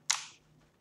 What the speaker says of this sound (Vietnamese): nó bắn phát vào đầu kìa